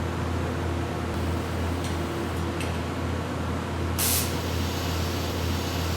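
TIG welding torch arc struck on base metal during beginner welding practice, a steady loud broadband hiss that holds throughout, with a brief sharper burst near the end and no talk.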